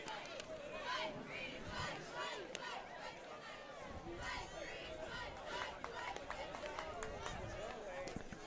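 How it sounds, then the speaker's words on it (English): A light but lively crowd at a high school football game, Notre Dame vs. Leo in the Prep Bowl, cheers, shouts and chatters steadily in the background for several seconds. "It's a light crowd, but it's an energetic crowd."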